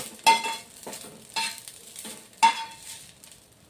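Rela flowers frying in oil in a pan, heard as soft, intermittent scrapes and sizzles from stirring, quiet and close, with a few sharper strokes spaced about a second apart.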